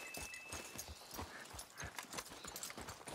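Horse being led in Red Dead Redemption 2, steady hoof clip-clops in an uneven walking rhythm, fairly close and faint, with no one speaking.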